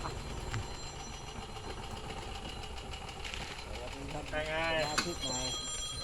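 A telephone rings outdoors on a farm in Kanchanaburi during tree pruning work, a short burst of warbling ring tones near the end over a steady running engine drone, with people talking.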